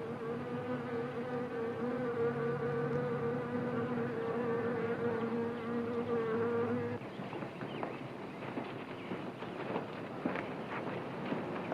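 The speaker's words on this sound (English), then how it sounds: "What's all this nonsense about wasps?" A wasp buzzing with a steady droning hum that cuts off partway through, followed by fainter crackly rustling noise.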